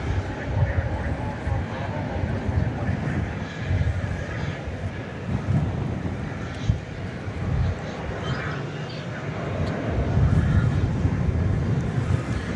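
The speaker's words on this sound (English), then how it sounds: "That was American Flight 1832 coming in from Denver, an Airbus A321" An Airbus A321 airliner lands at DFW Airport at night, a continuous broad engine roar and low rumble that swells slightly toward the end, with faint background sounds.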